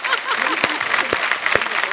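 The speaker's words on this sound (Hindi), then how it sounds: "first you have to clap on my English babe" A studio audience at The Kapil Sharma Show claps in a steady, dense round of applause, with voices speaking over it.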